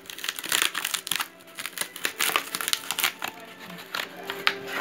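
Paper and plastic mail packaging is torn open by hand, crinkling and tearing in quick bursts of rustling, close by and continuous, with no talking.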